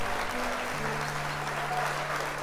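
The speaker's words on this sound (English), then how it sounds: "Can we get some applause?" Applause played on request during a sock-puppet gaming stream, a steady wash of clapping at moderate level over a low tonal hum.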